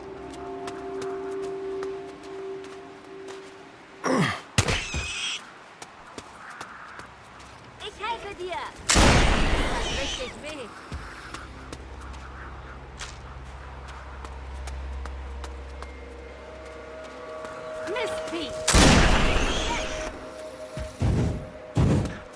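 Shots ring out in the fantasy role-playing game Risen 3: Titan Lords, several loud sharp bursts spaced apart amid combat thumps and footsteps, with someone talking over much of it.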